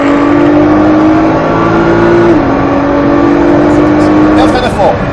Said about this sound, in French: Allez, gaz à fond.